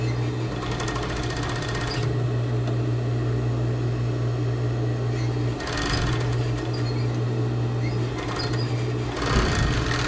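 Industrial sewing machine, likely a serger with a cutting blade, stitching fabric in long steady humming runs broken by brief pauses, loud and close, with a few spoken words briefly over it.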